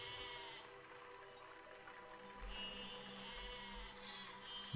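Sheep bleat in the Besiege video game, several drawn-out wavering calls at moderate level over a constant low rumble.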